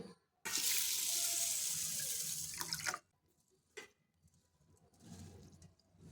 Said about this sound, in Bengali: এই চালটা এখন খুব ভালো করে 2-3 বার ধুয়ে নিতে হবে।